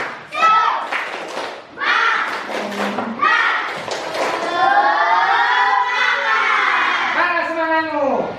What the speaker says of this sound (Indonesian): Kita berikan tepuk tangan untuk kelompok 4.